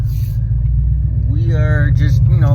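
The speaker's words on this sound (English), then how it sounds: "we need to put some miles on the Impala because I haven't driven the car for a long time" A 1995 Impala SS drives along with a loud, steady low engine rumble close by, while a person talks over it partway through.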